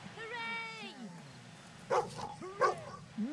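A dog in Fable 2 yelps and whines with a rising, pitched whimper, followed by a few short barks spaced apart, fairly faint under game sounds.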